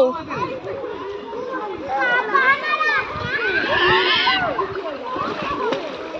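Children splash and shout in a swimming pool at the Bakkhali seaside resort, water sloshing beneath busy overlapping young voices and excited chatter throughout.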